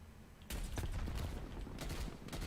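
A burst submachine gun fires in a shooter video game, with rapid crackling shots starting abruptly and continuing densely over a few seconds at steady loudness, with no talk.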